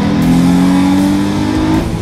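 Infiniti G35 car pulls away and accelerates, its engine revving loud and steady with a rising harmonic tone, then easing off near the end.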